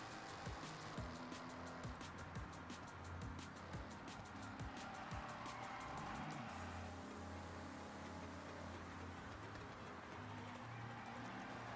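A Ford Mustang race car in Forza Horizon 6 roars along with a steady engine drone that rises and shifts as it gains ground, accompanied by faint tire noise and no talk.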